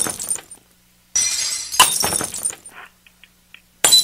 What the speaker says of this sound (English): Can you tell them, like, go to the sound of the breaking glass?